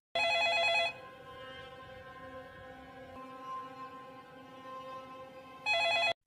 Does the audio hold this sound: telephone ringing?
yes